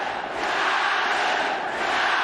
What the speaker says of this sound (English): The crowd going nuts. Crowd going ballistic.